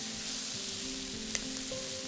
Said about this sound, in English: let's go ahead and add our delicate mustard greens. And stir to combine.